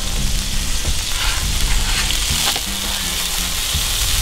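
A patty melt sizzles steadily in a pan as Swiss cheese melts on top, a constant close crackle with a soft tonal background and no talking.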